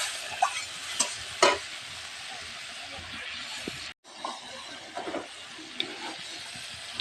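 Gobindobhog rice and egg frying in oil in a pan while a spoon stirs them, giving a continuous close sizzle with scraping strokes and a brief drop-out midway.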